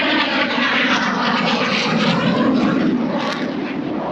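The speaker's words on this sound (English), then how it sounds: "That was an Air Force fighter jet, and I keep hearing them every once in a while." An Air Force fighter jet roars overhead near Bhuj, India, a loud, steady broadband rush of engine noise that fills the whole clip without letting up, with no voices.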